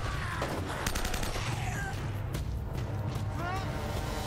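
Gunfire during a firefight in the video game Uncharted: Drake's Fortune, with a dense run of loud shotgun and rifle blasts over a constant rumbling game backdrop.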